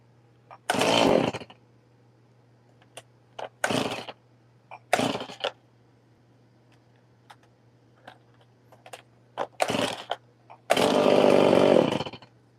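Chainsaw carving a pine cone from a log, several short, loud revving bursts separated by quiet pauses, with a longer sustained cut at the end.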